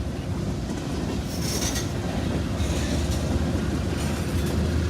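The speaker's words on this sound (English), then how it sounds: "Got a CSX M500 headed north." A northbound CSX M500 freight train rolls past close by near Evansville, Indiana, a continuous rumble of rail cars with rhythmic wheel clatter and occasional squeals.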